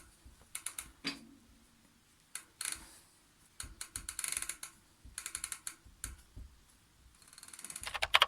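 Bicycle transmission being cleaned, with a rag worked over the chainring teeth, giving irregular bursts of close, crisp clicking and ratcheting from the drivetrain, separated by short quiet gaps and building toward the end.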